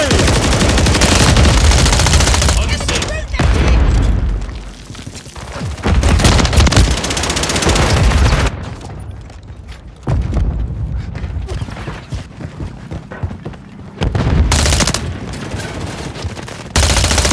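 Bursts of automatic gunfire and explosions from an online match of the video game Call of Duty Modern Warfare 3, loud and close, in several dense volleys separated by short quieter gaps.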